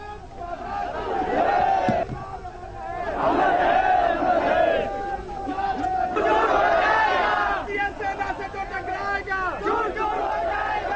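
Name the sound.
crowd of thousands at the last rites of a soldier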